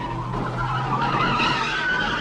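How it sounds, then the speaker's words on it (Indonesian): A prisoner transport car skids and overturns after a rocket hit in an action movie scene, a loud close tire screech and scraping slide lasting a couple of seconds, then cutting off abruptly. "Sehingga mobil itu pun terguling dan John berhasil kabur."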